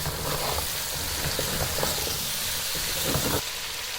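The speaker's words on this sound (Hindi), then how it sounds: "और इसको फिर से अच्छे से मिक्स कर देंगे।" Dry coriander powder mixed into cauliflower and potato curry frying in a pan, producing a loud, continuous hissing sizzle with faint stirring scrapes and no talk.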